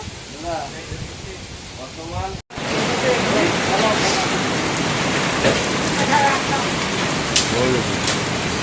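Small hailstones and rain pour down during a brief storm in Bangladesh, a dense, loud, steady hiss close by, with people talking over it.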